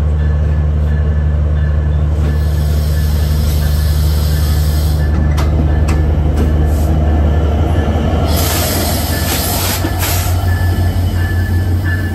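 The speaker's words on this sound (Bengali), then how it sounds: "আমাদের সাথে ক্রসিং হলো খুলনা থেকে ছেড়ে আসা রাজশাহী অভিমুখী আন্তনগর সাগরদাড়ি এক্সপ্রেসের সাথে" The intercity Sagardari Express bound for Rajshahi from Khulna crosses alongside, a loud continuous rail roar with deep rumble and bursts of high wheel squeal and hiss toward the end.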